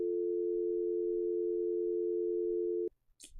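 A steady telephone dial tone hums alone for almost three seconds while a call is placed, then cuts off abruptly into faint rustling.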